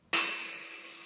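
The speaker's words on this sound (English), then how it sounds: "I'll get the heat gun. We'll seal these two up" Heat gun switched on to seal wiring on LED spot lights for a Triumph Tiger 1050 motorcycle: a sudden close airy blast of steady fan and hot-air roar that holds on, fading only slightly.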